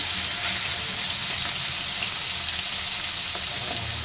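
Amudi fish frying in a pan of hot oil with winter vegetables such as radish, giving a steady, loud, close sizzle and crackle that runs unbroken throughout with no voices.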